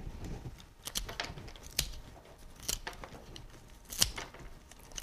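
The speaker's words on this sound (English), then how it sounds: "So I need to cut my stems off just below my hands" Scissors snip through flower stems for a bouquet, a few crisp cuts with soft rustling between them, close and fairly quiet.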